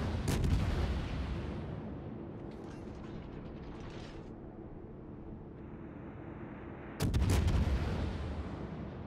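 Heavy naval guns fire in World of Warships, with a loud broadband blast at the start and another sharp salvo near the end, separated by a steady rumbling mechanical drone with creaking and ratcheting turret noises.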